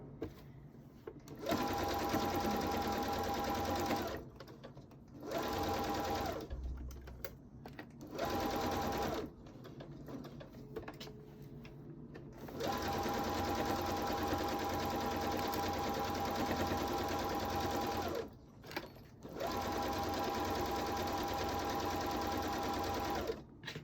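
A sewing machine stitches a zipper-back pillow in several runs of steady, close whirring, broken by short pauses between seams.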